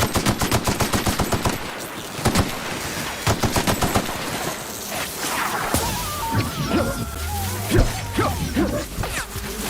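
An assault rifle fires in the video game The Outer Worlds. Rapid bursts of sharp automatic shots come in quick succession, then give way to scattered impacts and other game noises, with a voice speaking briefly underneath.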